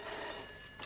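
A telephone at a farmhouse rings faintly in the background, a short continuous trill with no voices.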